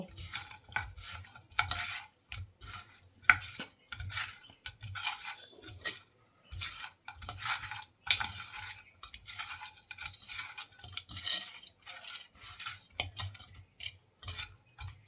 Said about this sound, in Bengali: হলুদ লবণ মাছে ভালো করে মেখে নেব